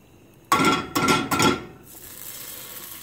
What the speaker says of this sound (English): Crack the egg.